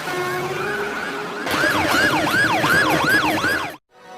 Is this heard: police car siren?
yes